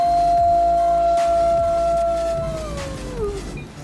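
A wolf lets out a long, loud sustained howl that holds a steady pitch before sliding downward and trailing off, clear and alone.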